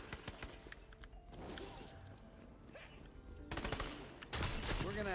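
Bursts of rapid gunfire in the video game Tiny Tina's Wonderlands, several loud volleys separated by short lulls, with crashing impacts and a sharp final blast near the end.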